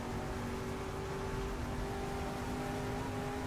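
A race car engine in the racing simulator GTR 2 as it is floored down the front straightaway, a steady, sustained high-pitched engine drone with a constant tone, fairly quiet and heard without talk.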